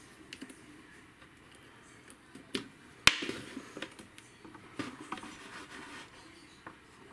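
Typing on a USB keyboard plugged into a Samsung S9 through a Type-C OTG cable or hub, giving sparse, soft key clicks and taps at uneven intervals with one sharper click near the middle, over quiet room noise.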